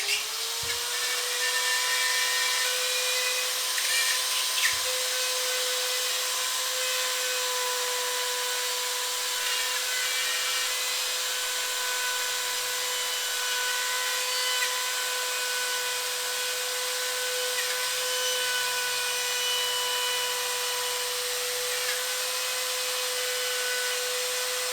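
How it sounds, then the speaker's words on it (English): A rotary tool with a cutting bit bores through drywall around an electrical box in a basement bedroom build, a steady high-pitched whine held for nearly the whole stretch, close and loud, with a brief bump near the start and no talking. "when it goes through the drywall, you can actually ride that edge along the side of the box and it shouldn't cut into it at all"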